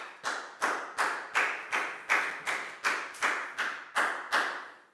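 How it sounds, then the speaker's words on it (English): A class of Year 4 pupils claps in unison during a maths lesson, about a dozen sharp, evenly spaced group claps with a slight room echo and no talking. "Big round of applause for Nadia, please, guys."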